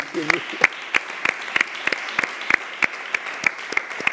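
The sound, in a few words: audience applause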